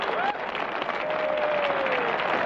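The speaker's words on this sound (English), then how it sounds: "And the crowd loves it." A golf gallery at a 1990 tournament applauds in a steady, dense wash of clapping that holds at an even level from start to finish.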